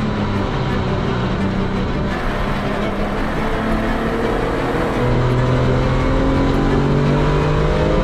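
A Porsche 992 GT3 on a race track roars loudly from inside the car, its engine note rising and shifting through downshifts with throttle blips, continuous and close.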